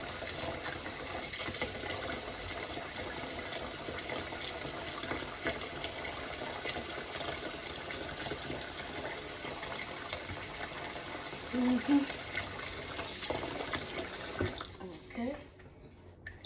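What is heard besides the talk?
cold water running from a tap to wash pork roast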